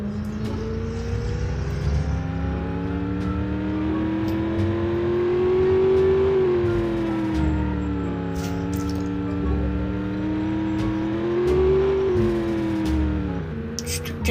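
A car engine strains steadily as it drives through mud in the BeamNG.drive game, its pitch rising and falling with the throttle and sustained loud throughout, with no talk.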